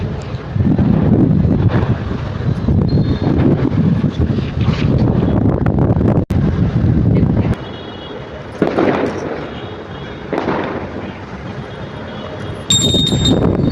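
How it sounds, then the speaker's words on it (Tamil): Heavy gusts of wind batter the microphone with a deep roaring rumble, easing briefly in short lulls before surging again. "ரொம்ப காத்தடிக்குது ஃப்ரெண்ட்ஸ்."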